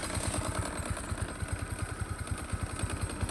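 A small motorcycle loaded with cement and steel idles with a rapid, steady putter and light clatter, close and moderately loud, with no talk.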